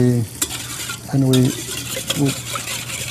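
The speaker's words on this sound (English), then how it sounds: "We whisk it a little bit." Marsala, sugar and cinnamon whisked in a bowl over a double boiler, brisk rhythmic whisk strokes against the bowl with a couple of metal clinks, alongside bursts of humming voice.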